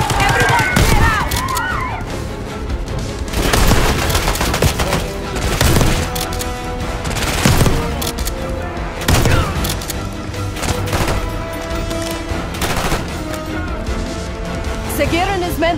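Loud, dense gunfire and bursts of automatic weapons in a Call of Duty Black Ops 6 Gulf War campaign mission, repeated volleys and booms over a score, with voices shouting at points.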